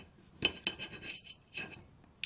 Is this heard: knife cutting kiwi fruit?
yes